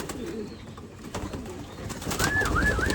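Young racing pigeons in a loft coo in soft, wavering calls, with a louder run of cooing near the end over a steady, busy background.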